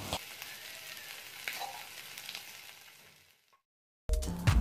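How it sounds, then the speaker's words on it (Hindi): Boiled potato pieces fry in oil over a high flame, giving a soft, steady sizzle with small crackles that fades to silence, and then a louder clatter comes in abruptly at the end. "इसे हम डाल करके हाई फ्लेम पे ही फ्राई कर लेंगे।"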